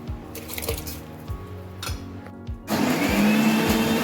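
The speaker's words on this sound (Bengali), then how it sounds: "মশলাটা পিষে নিচ্ছি মিক্সিতে" A mixer grinder blends spice paste for chicken in a home kitchen. Faint room noise comes first, then the motor starts abruptly near the end as a loud, steady, close whirring grind.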